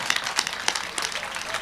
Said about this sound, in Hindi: यार तालियां आपने बहुत कम बजाई